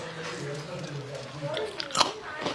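A voice talks, then a sharp crunchy bite into a crisp snack comes near the end, followed by a little chewing.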